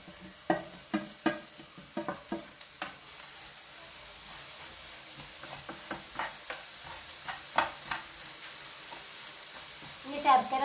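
Chopped jaggery is stirred into a wheat flour mixture cooking in a pan for Kerala ela ada, giving a series of close, sharp scraping strokes over a quiet, soft sizzle, with no voices.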